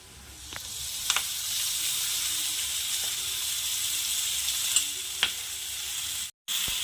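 Fenugreek leaves with red chili powder hit a hot pan and sizzle in a loud, steady hiss, with a few faint stirring taps, close up and with no talking.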